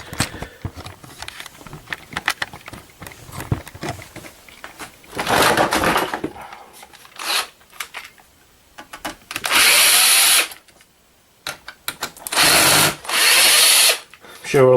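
A power screwdriver whirs in bursts while removing screws from an old flat-screen TV, with several loud buzzing runs separated by handling clatter and pauses.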